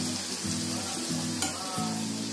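Karanji pastries deep fry in hot oil, a steady close sizzle and bubbling with faint stirring sounds, loud and continuous with no talking.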